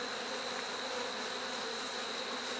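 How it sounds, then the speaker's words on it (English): Honey bees hum steadily around open hive frames mostly filled with honey, a dense, continuous close-up drone with no pauses. "There's a decent number of bees, I think."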